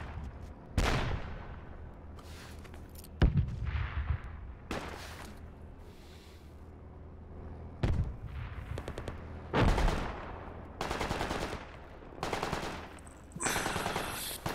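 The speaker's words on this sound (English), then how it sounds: "I think one of you is shooting me" Gunfire in the military shooter Project Reality, with repeated bursts of automatic weapons and single heavy shots cracking at intervals, some close and loud, others more distant, with quieter gaps between.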